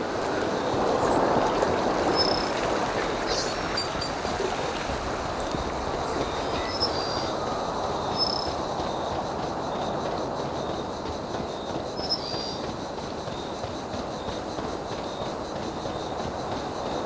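Trains rumble steadily through a train yard in the video game Sniper: Ghost Warrior Contracts 2, with a constant low roar, rolling wheel noise and faint high squeals.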